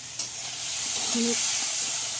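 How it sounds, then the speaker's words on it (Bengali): A pan of bitter gourd and potato curry cooks with a constant broad hiss and sizzle, a small tap at the start and a faint brief tone midway, with no voices. "উচ্ছে আলু তরকারি বসিয়েছি"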